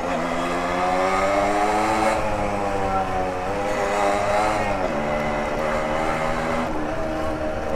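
A motorcycle engine drones steadily while riding along a road at night, its pitch rising and falling as the rider shifts and accelerates, with wind noise and a faint voice underneath.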